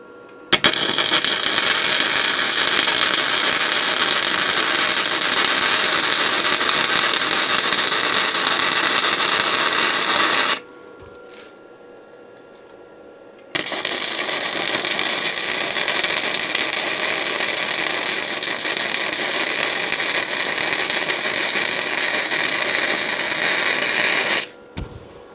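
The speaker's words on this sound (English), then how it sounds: "I'll weld as much of this as I can before I remove any of the stiffening bolts." A gasless hobby welder on a 13 amp supply welding a Fiat/Ford engine mount gives a loud, steady crackling hiss up close. Two long unbroken runs are split by a short quiet pause.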